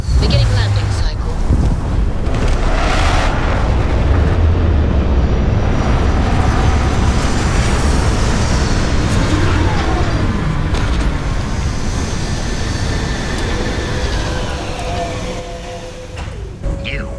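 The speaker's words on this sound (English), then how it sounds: "Beginning landing cycle." A spaceship landing in the video game Starfield: a loud, sustained roaring engine rumble with whooshing wind-like noise that swells and then tapers off near the end, with talk in places.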